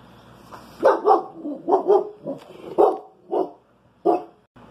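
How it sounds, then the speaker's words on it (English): A dog barks close by in a series of about eight sharp barks, some in quick pairs and others spaced out, loud against a quiet indoor background. "The dog thinks there's somebody out there."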